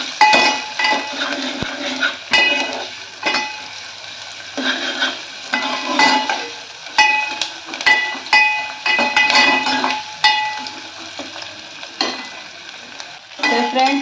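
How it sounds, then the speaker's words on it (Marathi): Finely chopped onion sautéing in a pan for a Konkani-style kulith (horse gram) pithi, with a steady sizzle and frequent spoon scrapes, stirring and clinks against the pot throughout, close and fairly loud. "जो मी बारीक चिरून घेतलाय कांदा तो कांदा मी यामध्ये आता घालते हे सुद्धा आपल्याला छान परतून घ्यायचं आहे"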